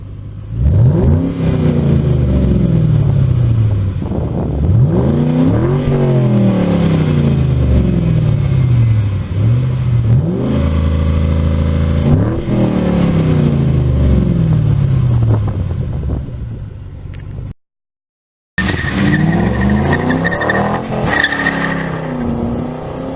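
A stock 2006 Ford Mustang GT with a catback exhaust revs repeatedly, its V8 rising and falling through loud, close sweeps with a brief break near the end, no talking over it.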